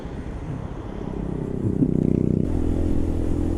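A Keeway RKV 125, a Chinese-made 125cc motorcycle, idles nearby with a steady low putter, rising briefly into a slightly faster throbbing pulse before settling back to a lower even idle.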